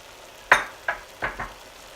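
Two cloves of minced garlic frying in a pan while being stirred, four short scraping sizzles about a third of a second apart, close and moderately loud over a quiet background.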